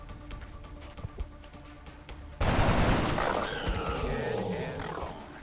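Gunshots in the turn-based strategy game XCOM Long War, with scattered quiet clicks and thumps, then a sudden loud burst of gunfire that gives way to a sustained roaring rumble with swirling tones.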